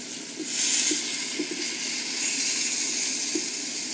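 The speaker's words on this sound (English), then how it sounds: "As it starts to cook, we just turn it over, move it around the wok." Chinese BBQ pork in marinade sizzles in a wok over gentle heat, a steady close hiss with a few soft knocks as the pieces are turned and moved around.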